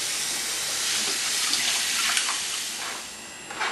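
Tap water runs steadily as a mixing bowl is washed in a kitchen sink, giving a constant close rushing hiss with faint splashes and clinks near the end.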